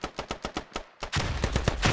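A .50 caliber machine gun in a video game firing a string of evenly spaced single heavy shots, a brief pause, then a louder, faster rattling burst, close and without talk.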